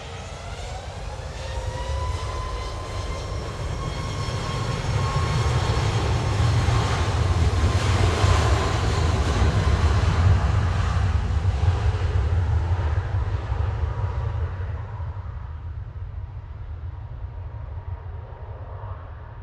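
Ryanair Boeing 737 MAX 8 passing at Manchester Airport, a sustained loud jet engine roar with rising whine that swells through the middle and slowly fades as the aircraft moves away, no voices.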